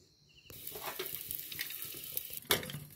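Litti made from dough balls crackle and sizzle in ghee inside a hot pressure cooker, a sudden burst of frying that keeps hissing with small pops and a louder sputter near the end.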